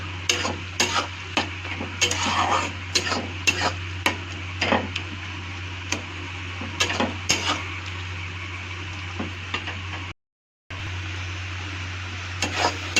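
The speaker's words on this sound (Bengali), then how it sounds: "আমি এখন একটু ভাজা ভাজা করবো" A tomato mixture sizzles and fries in a pan and is stirred steadily. Scraping and clinking of the utensil against the pan repeat throughout, and a constant low hum runs underneath. The sound drops out briefly near the end.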